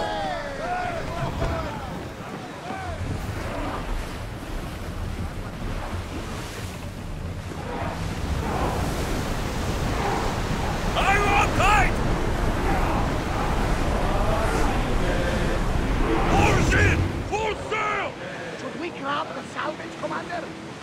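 Ocean waves and wind rush around a sailing ship in Assassin's Creed Odyssey, a steady broad wash of surf that swells louder midway, with voices speaking over it throughout.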